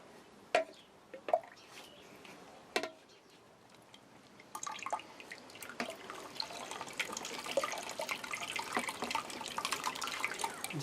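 A damaged foam RC plane nose being moved in water, with a few isolated drips and splashes at first, then continuous soft sloshing and trickling water close by.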